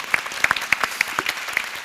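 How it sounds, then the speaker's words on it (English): A small conference panel audience claps in scattered, uneven hand claps for a couple of seconds, fairly close and moderately loud, with no talking. "So big applause"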